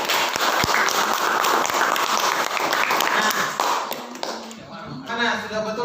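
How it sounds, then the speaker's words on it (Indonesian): A classroom of pupils claps together for a few seconds, brisk uneven hand claps that fade as a teacher's voice takes over. "Ya, tepuk tangan dulu."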